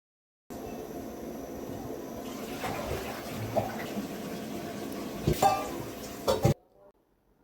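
Small fish are added to a spice mix in a pan and stirred, giving a continuous soft wet scraping and sloshing with a few louder knocks against the pan before it stops.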